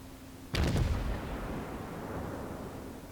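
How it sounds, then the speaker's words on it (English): Naval gun batteries fire in World of Warships on the heavy cruiser USS Pensacola, a sudden booming salvo of several close shots, then a long rumbling decay. "And just forward batteries firing."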